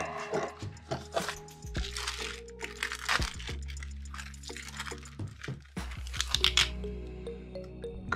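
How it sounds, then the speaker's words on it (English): A utility knife slices open the side of a well-packed cardboard shipping box holding an electric boat motor, with crunching, tearing and crinkling bursts close up and fairly loud, alone without voices. "I'm going to cut this side open"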